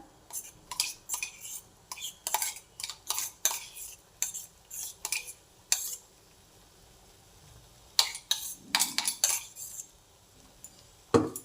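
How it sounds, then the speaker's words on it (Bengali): A utensil stirs melting soap mixed with orange peel paste in a pot, making quiet, close scraping and clinking strokes in irregular bursts with short pauses between them. "এবার ভালোভাবে মিশিয়ে কিছুক্ষণ আমি নাড়াচাড়া করব যতক্ষণ না গলছে"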